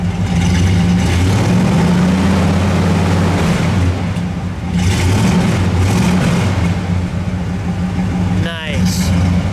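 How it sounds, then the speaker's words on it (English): A 1972 Pontiac Grand Prix SSJ Hurst with a 455 V8 and dual exhaust rumbles loudly up close, its engine rising and falling through several revs from idle, with a voice talking over it. "Go ahead, give it a rev."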